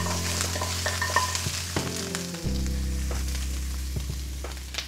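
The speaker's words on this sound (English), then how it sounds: "we're gonna give the outside a quick little sear and sear it with some ginger slices" Bones sear with ginger slices, sizzling steadily in a hot pot for bone broth, with soft clinks and scrapes of stirring over the continuous frying hiss.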